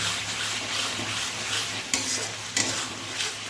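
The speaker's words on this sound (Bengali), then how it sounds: "ভালো করে মশলাটাকে কষিয়ে নেব" Spice paste for a red egg curry stir-fried in a pan, a steady close sizzle with scraping stirs and two sharper utensil knocks against the pan partway through; no voices.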